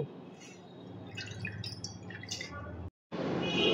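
Soaked Gobindobhog rice is rinsed in water, giving soft continuous dripping and sloshing close by, broken by a brief pause before a rush of water resumes.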